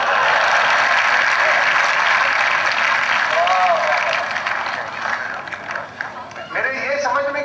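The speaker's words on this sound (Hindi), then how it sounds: "और अब आपकी तालियां उठेंगी" Audience applause at a Lucknow mushaira poetry gathering, sustained and loud from the start, fading to scattered claps with voices and movement near the end.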